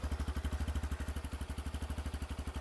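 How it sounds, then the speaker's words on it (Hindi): Bajaj CT 110X motorcycle engine idling up close, a steady rapid thumping beat at an even rhythm with mechanical clatter, no voices. "तो ऐसे कुछ रहने वाली है इसकी इंजन की आवाज़।"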